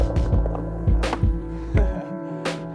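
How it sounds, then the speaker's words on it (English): Skateboard grinding along a street rail, with a low continuous scraping hum broken by several hard thunks as the board lands and catches, close and fairly loud with no talking. "First grind on this in probably 6 years or something."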